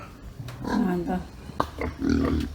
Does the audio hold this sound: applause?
no